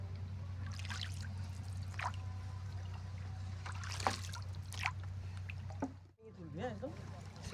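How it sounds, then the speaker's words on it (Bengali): Boats travel back along the water at the Purbasthali bird sanctuary, with a steady low hum under faint splashes, knocks and distant voices. "উল্টো পথে অনেক নৌকা তখন ফেরত আসছে।"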